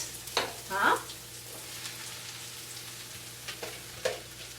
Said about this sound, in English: Now you have the mushrooms cut like this, and the onions are still getting a little more brown. You're just gonna add them to it